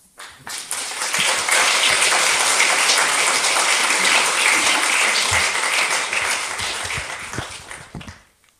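Sustained applause for a lecturer after an academic talk on ancient Egyptian mythology, swelling quickly into a dense, hissing wash of many clapping hands, holding evenly, then tapering off to scattered claps.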